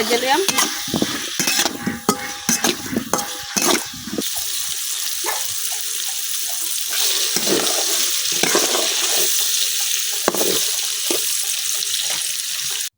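Pointed gourd and potato fry with turmeric and salt in a village kitchen, with a steady hiss of frying. Clattering stirring scrapes come in bursts, busiest at the start and then more sporadic.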